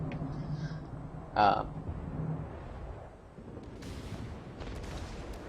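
Torpedo strikes on a warship in World of Warships, a muffled heavy boom standing out briefly amid rumbling naval combat, with later softer impacts and a voice talking over the battle.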